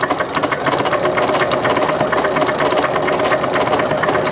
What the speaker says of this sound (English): notice when I started stitching